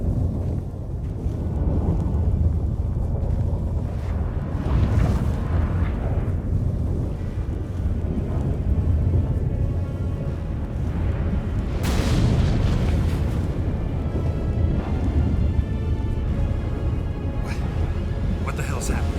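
A storm rages in the video game The Witcher 3: loud rumbling thunder booms and roaring wind run continuously, with characters speaking over the din.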